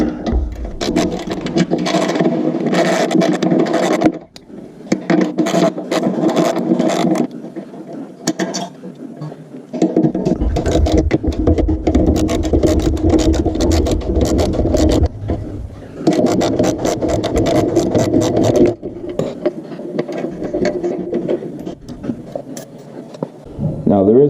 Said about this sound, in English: now you get a 13mm wrench or a socket, and we're just going to back these up.